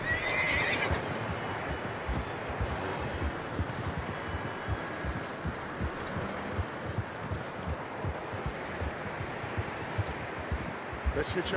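A horse in Red Dead Redemption 2 gives a loud whinny near the start, then hooves clip-clop in a steady walking rhythm beneath game sounds and a voice, with a few sharper hoof hits near the end.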